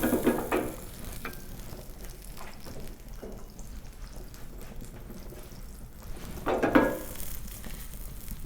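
Oil melts and sizzles in a pot on the stove for a yogurt soup, a steady close frying hiss broken by a couple of louder stirring bursts.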